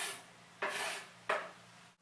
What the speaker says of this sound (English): I'll just stir that and let it cook until the onions become kind of transparent.